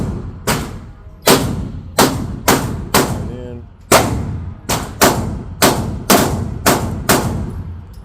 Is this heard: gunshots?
yes